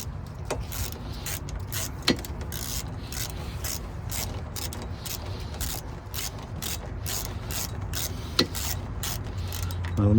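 A hand ratchet tightens rear brake bolts on a Mini Cooper S R53, a fast, steady stream of close clicking with a couple of sharper metallic knocks over a constant low background hum.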